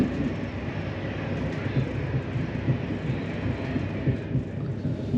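Onboard a Southern train nearing platform 10 at Watford, a steady low rumble with a soft, regular clatter of wheels over rail joints carries throughout.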